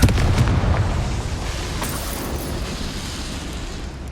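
Spell explosions from Bombarda and Confringo in the video game Hogwarts Legacy, heavy booming blasts that open loudly and roll into a sustained rumbling, crackling wash of debris and noise.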